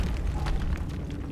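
A Confringo fire spell bursts in Hogwarts Legacy with a short, loud, low boom and a crackling rumble that fills the whole moment.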